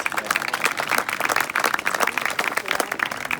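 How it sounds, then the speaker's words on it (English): A crowd applauds at a high school soccer banquet as a senior defender comes up, with steady, moderately loud clapping that lasts throughout. "A round of applause."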